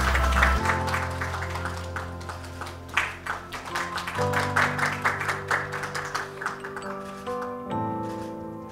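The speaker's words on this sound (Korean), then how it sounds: "박수 부탁드리겠습니다" Audience applause fills the hall at a Korean smart-finance award ceremony. Steady, dense clapping runs throughout over sustained background music with shifting held chords.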